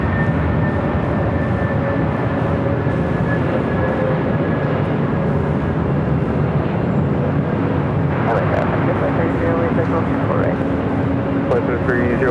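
An Airbus A330neo takes off at LAX with a steady, broad jet roar that holds at close range for the whole stretch, and faint voices come and go beneath it.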